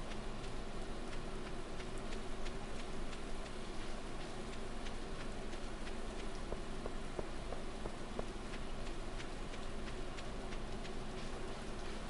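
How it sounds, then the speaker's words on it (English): Steady patter of rain in the video game Stardew Valley, soft and continuous, with faint regular ticking drops scattered throughout and no voices. "It's raining."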